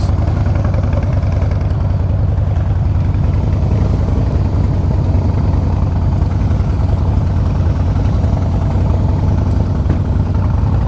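A 2014 Harley-Davidson Breakout FXSB rumbles loud and close on a test ride, a deep steady engine drone with constant low-end pulsing and no pauses throughout.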